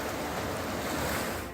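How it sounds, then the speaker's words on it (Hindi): The swollen Tamsa river in flood in Palghar, Maharashtra, after heavy rain surges past as a steady, loud, broad roar of rushing water with wind noise mixed in and no voices. "तामसा नदी की उफनती लहरें हर किसी को डरा रही है"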